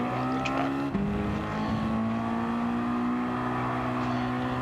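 A race car engine from Gran Turismo 7 drones at a steady high pitch with a brief dip and shift, as if changing gear, while pushed hard around a track. It stays moderately loud with no talk.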